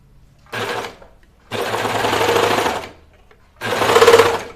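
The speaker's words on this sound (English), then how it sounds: "serger loves pushing it out." A serger sewing machine runs in three loud, close bursts, short then longer then short again, with quiet pauses between them and no talking.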